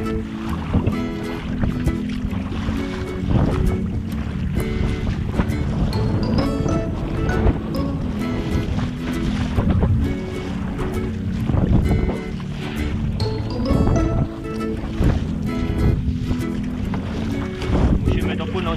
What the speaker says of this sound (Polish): piękne fale.